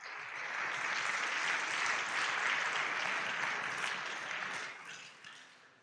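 Applause from an audience at the opening ceremony of the ICPC European Championship, honoring the competing university teams. It is sustained, dense clapping that stays loud most of the time and then tapers off near the end.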